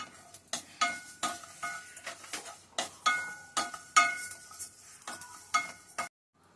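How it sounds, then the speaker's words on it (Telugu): Coriander seeds and cumin dry roasting in a pan, stirred in a steady rhythm of about a dozen close scraping, rattling strokes with brief pauses, no talking. "ధనియాలు కొంచెం ఈ విధంగా వేగిన తర్వాత ఒక 2 స్పూన్లు జీలకర్ర వేసుకోవాలి."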